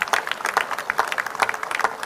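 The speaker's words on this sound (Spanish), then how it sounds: "Muchas gracias a la banda de las escuelas, un aplauso" Applause rises for a school band at an outdoor police-patrol handover ceremony in Xochimilco, a dense crowd of sharp, overlapping claps that carries steadily throughout.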